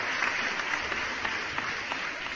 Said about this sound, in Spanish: Estos son los aplausos